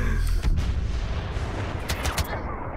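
A grenade explosion in the Star Wars Battlefront video game, a heavy boom with rumbling blast and crackling gunfire around it, followed by further sharp bursts, with players talking over the action.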